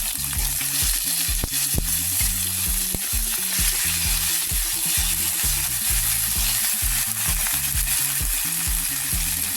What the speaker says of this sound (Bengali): টমেটোটা একটু হালকা হালকা ভাজা হয়ে গেছে।